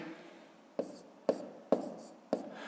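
Pen or pencil writing numbers by hand in a fifth-grade maths exercise, with four short, close scratching strokes at roughly half-second intervals against a quiet background.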